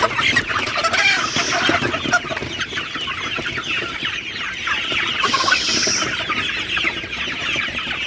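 A flock of 54-day-old Sonali super hybrid chickens clucks and chatters busily at morning water, a dense, continuous, fairly close flock sound with no speech.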